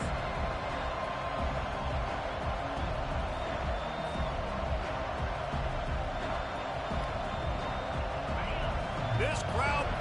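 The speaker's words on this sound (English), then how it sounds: "This crowd bringing the energy and noise early." Steady stadium crowd roar in an NCAA 25 college football video game, a dense continuous wash of noise sitting under a commentator's voice throughout.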